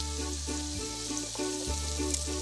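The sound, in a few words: delicate pieces sizzling in butter in a pan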